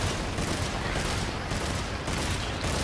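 Dense, rapid gunfire from the video game Devil May Cry pounds continuously at close range, the loud bursts blurring into a sustained rattling barrage with no voice over it.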